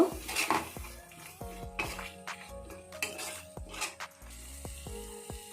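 Metal spoon clinks and scrapes against a pan while spiced potato curry with yogurt is stirred, a run of sharp, irregular utensil knocks at close range with no talking.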